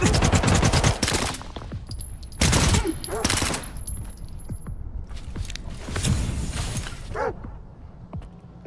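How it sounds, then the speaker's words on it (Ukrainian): Gunfire in the video game STALKER 2 during a firefight in Pripyat, loud rapid automatic bursts and sharp single shots with brief pauses, close and punchy throughout. "Диви, стріляє з стіну."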